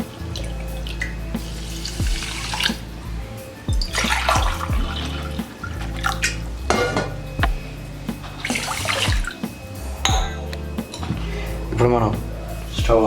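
Water is poured into a pot of rice for cooking on a gas stove, running and splashing in uneven bursts close by, with some clinks and brief voices between pours.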